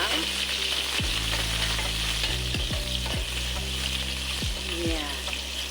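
Garlic and chicken cubes sizzling and frying in a pan, a loud steady hiss broken by several sharp clacks of a utensil stirring against the pan.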